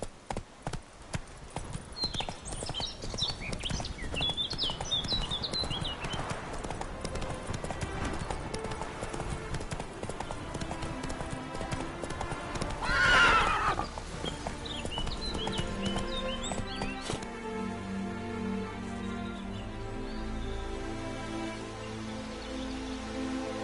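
Steady clip-clop of Roach the horse trotting in The Witcher 3, hooves beating a continuous rhythm with a neigh in the middle, rain pattering in the background.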